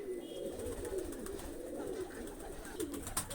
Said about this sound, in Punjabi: ਲੱਗੀਆਂ ਕਬੂਤਰੀਆਂ ਖਾਣ ਸਾਰੀਆਂ